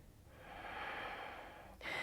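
Quiet, steady breath drawn in and let out slowly during a morning vinyasa yoga flow, a long soft airy exhale followed by a sharper intake near the end.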